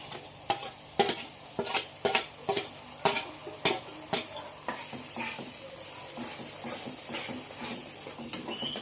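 Chicken marinade masala sizzles in a hot pan while a spoon scrapes and knocks in a quick rhythm of sharp strokes, then the stirring eases into a steady close frying hiss.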